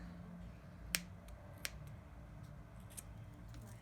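Scissors snip the loose end of chunky cable wool yarn on a crochet basket: three crisp, isolated cuts spaced about a second apart, close and fairly quiet against a soft room hum.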